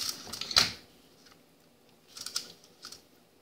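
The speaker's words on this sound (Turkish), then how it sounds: "Şu kısmı, şu fazlalık olanı şöyle keselim." Scissors snip the excess cord from a handmade coral bead bracelet, giving one sharp close cut followed by a few fainter clicks and rustles in a quiet room.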